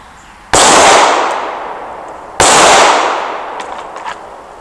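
Two sharp, loud pistol shots from a Smith & Wesson M&P at an outdoor shooting range, roughly two seconds apart, each ringing out with a long decaying echo, followed by faint clinks.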